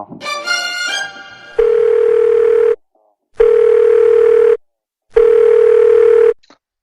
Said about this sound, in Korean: 전화를 한번 걸어볼게요.